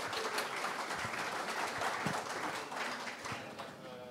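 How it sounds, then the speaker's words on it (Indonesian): A crowd claps at a madrasah graduation ceremony at an Islamic boarding school, honoring Quran memorizers. The applause is fairly faint and distant, an even patter with a few sharper claps, lasting about four seconds. "Monggo tepuk tangan semuanya."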